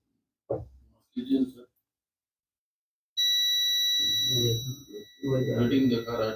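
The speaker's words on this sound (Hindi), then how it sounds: "रीडिंग के साथ बीप साउंड है ना।" A multimeter's continuity test sounds a steady high-pitched electronic beep for about two seconds while probing a Vivo Y15 phone board with a shorted secondary line, with someone talking before and during it.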